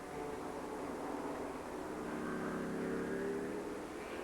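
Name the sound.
Ford GT40 race car with V8 engine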